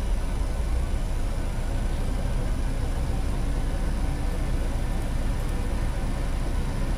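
A steady, droning airliner engine hum in a flight simulator game holds constant throughout, a broad low roar with a thin high whine on top and no talking.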